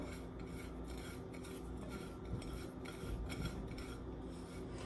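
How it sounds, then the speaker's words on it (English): A spoon scrapes and rubs through a dry mix of black pepper, Italian seasoning, oregano and paprika in a bowl, a steady raspy stirring that stays faint and close, with no talking. "Right, and I'm just going to mix it all together."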